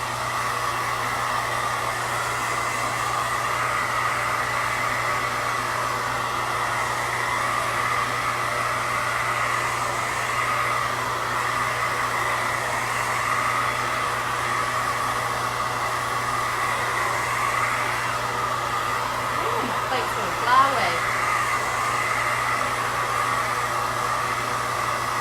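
A hair dryer drying decorated cake layers for a watermelon cake blows as a steady, close whooshing drone with a constant hum that continues unbroken throughout.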